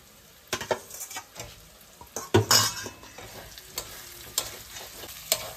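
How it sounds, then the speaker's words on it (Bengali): Potatoes stirred into a spiced masala in a pan, with soft sizzling and scattered scraping clinks of a spoon against metal, quiet and close. "এবার আমি এর মধ্যে আলুগুলোকে দিয়ে দেব। আলুগুলোকে দিয়ে বেশ খানিকক্ষণ একটু আমি কষাবো।"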